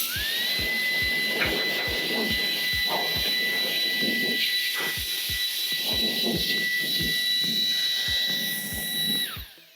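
A K&F Concept BS500M electric air duster runs on its low setting with a steady high-pitched turbine whine and airy rush, loud and close for about nine seconds, while a rapid rhythmic ticking pulses underneath before the motor winds down.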